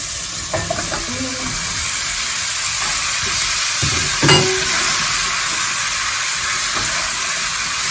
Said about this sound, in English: we're going to try and fry these and get them to brown a little bit